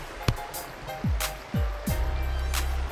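Clear water flowing by an old farm with a log house and a falling barn, a steady rushing murmur heard close, broken by a few sharp knocks and thumps.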